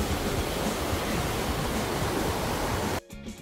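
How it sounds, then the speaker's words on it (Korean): Loud, steady roar of rushing water from a waterfall in Baegun Valley, a mountain stream near Seoul, broadband and continuous, cutting off abruptly near the end. "폭포수 있는 데인데요."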